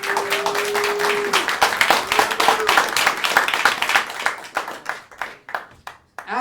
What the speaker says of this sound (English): And to our band, our pianist, Yoko, give a round of applause.